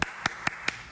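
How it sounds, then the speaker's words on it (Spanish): Four sharp, evenly spaced claps in quick succession, close and isolated, given as applause at a birthday greeting on a news show. "Aplausos para ti."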